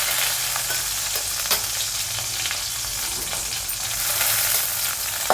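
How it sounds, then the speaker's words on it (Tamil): Curry leaves and four green chillies sauté in hot oil for a Mumbai-style sambar, giving a steady close sizzle and frying hiss throughout with light stirring scrapes and no voices. "கருவேப்பிலை, எடுத்து வச்சுட்டுருக்கிற 4 பச்சை மிளகாய் அதையும் லேசாக வதக்கிக்கலாம்."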